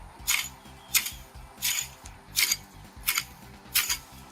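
Garden cutting blade swung through vegetation while preparing a garden bed, giving six sharp swishing cuts at an even rhythm, fairly faint and close, with no talk.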